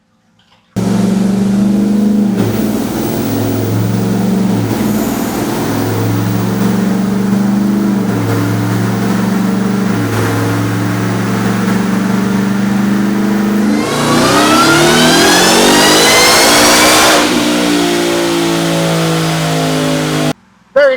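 A Ford Raptor R with a ported supercharger roars on a dyno, holding a steady loud drone before climbing in a long rising rev with a whining blower, then cutting off abruptly near the end.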